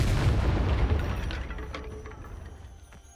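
A Confringo blasting curse goes off in Hogwarts Legacy, one heavy booming explosion that rumbles and slowly fades, with faint mechanical clicks in the tail.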